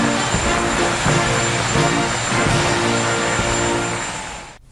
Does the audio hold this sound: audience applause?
no